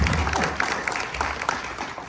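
A burst of applause from a comic convention audience, brief and moderately loud, with scattered claps fading out.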